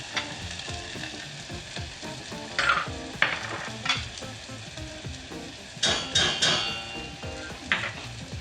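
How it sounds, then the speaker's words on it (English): Spices toast and sizzle in a pot of oil for chicken chili, a steady close frying hiss broken by occasional scrapes and clinks of a spoon stirring against the pot. "add your spices in, and let those start toasting off"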